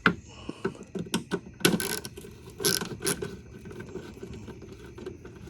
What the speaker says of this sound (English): So I got this little palm ratchet from Harbor Freight.